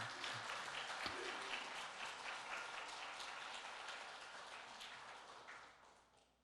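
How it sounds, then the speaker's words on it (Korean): A church congregation applauds to welcome a visiting pastor to the pulpit at a Sunday service, with a broad, even wash of clapping that softens and fades over the final seconds. "환영하는 마음으로 박수로 맞이해 주시기 바랍니다."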